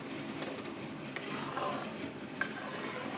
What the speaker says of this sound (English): I'm going to saute it in low flame